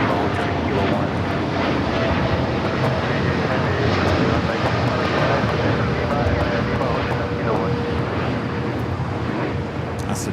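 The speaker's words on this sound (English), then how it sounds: "That's the Dreamliner heading to Chicago." A brand-new Boeing Dreamliner takes off from LAX bound for Chicago, its loud, steady jet roar filling the whole stretch while voices talk faintly underneath.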